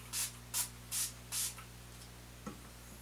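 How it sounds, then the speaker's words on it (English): Four quick hissing bursts of makeup setting spray in an even rhythm, close and crisp, followed by a faint click in a quiet room. "I'm going to use the All Nighter Makeup Setting Spray"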